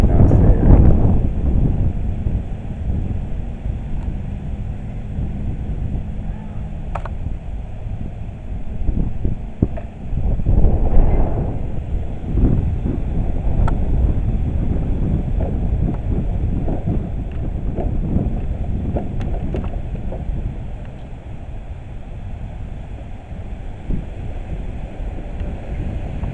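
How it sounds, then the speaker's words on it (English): Strong wind blows outside a building, gusting against the microphone in heavy low buffeting rushes that rise and fall throughout, close and loud. "Man, it's windy today. Woo! Seriously windy."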